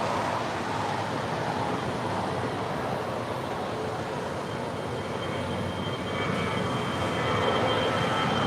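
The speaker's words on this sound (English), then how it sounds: "Our first departure on 25 right this morning is American Airlines Flight 767 heading to Phoenix." An American Airlines A319 airliner on its departure from runway 25 right at LAX, heard as a steady, broad jet-engine roar that swells slightly louder near the end.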